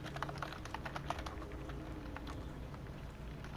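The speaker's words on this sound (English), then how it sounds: "Now I'm typing to the homies." Fast, light clicks of typing on a computer keyboard by a gamer, an irregular patter of close keystrokes heard alone at low volume.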